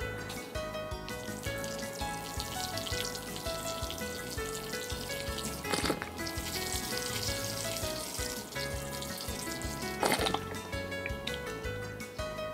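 Water pours steadily onto jabuticaba cuttings set in potting soil, a continuous close trickling and splashing with a couple of brief louder gushes.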